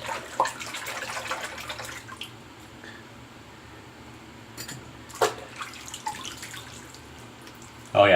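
Cold water runs steadily into a bathroom sink, a soft continuous splash with a few louder drips and clinks, heard close with no one talking.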